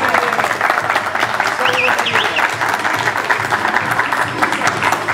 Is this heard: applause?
yes